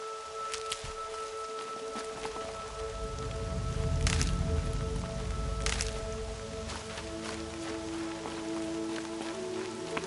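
Continuous soft patter of rain in the video game Horizon, with a low rumbling swell in the middle, alongside a faint steady tone.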